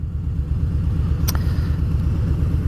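A Harley-Davidson Fat Boy motorcycle out on a ride, its engine giving a loud, steady low rumble throughout, with one brief sharp click partway through and no talking.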